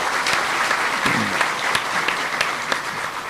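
A hall full of people at an Islamic religious gathering in Madiun prison applauds steadily, a fairly distant, even patter of many hands with a few sharper claps, a brief voice near the middle.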